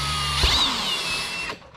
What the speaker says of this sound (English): Make sure you drill straight up,